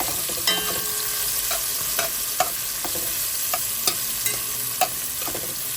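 Vegetables sautéing in a pan for arroz con gandules, a soft steady sizzle with occasional stirring clicks and scrapes spread across the clip, no talking.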